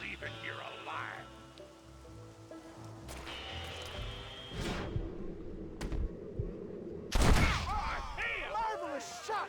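Gunshots ring out in a Red Dead Redemption shootout: a few sharp cracks spaced apart, with a loud one late, over ambient noise, while voices talk.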